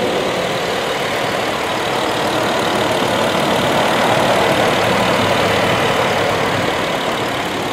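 A 2011 Jeep Wrangler Unlimited Rubicon with a 3.8 V6 idles steadily and loudly up close, a constant rough rumble with no pauses.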